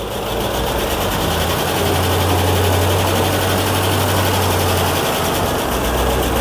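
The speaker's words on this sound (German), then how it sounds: "Also das Tickern ist jetzt tatsächlich ein Hydro-Tickern" Supercharged AMG M113 V8 in an SL55 AMG, rebuilt with IRP pistons, idling loudly and steadily at close range, a dense engine drone with a fast, even ticking from the hydraulic lifters running through it, no voices.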